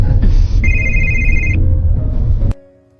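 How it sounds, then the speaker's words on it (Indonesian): A phone rings in a movie scene, a bright repeating electronic tone over a loud, busy background that cuts off abruptly near the end. "Di perjalanan, Uni mendapatkan telepon."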